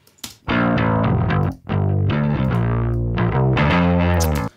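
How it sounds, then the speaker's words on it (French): A bass line in a music mix carries a gritty distortion and saturation effect, loud and thick with fuzzy upper harmonics, playing sustained notes with a short gap near the start. "je vais exagérer un tout petit peu la petite distorsion"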